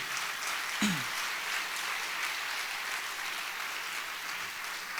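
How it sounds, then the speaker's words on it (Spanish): A church congregation applauds during a sermon, a steady, even wash of clapping that sounds somewhat distant. A brief vocal sound rises briefly near the start. "Dale fuerte el aplauso al Señor Jesucristo"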